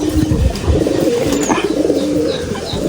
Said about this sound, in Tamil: எல்லா புறாவும் வெளியே வந்துருச்சு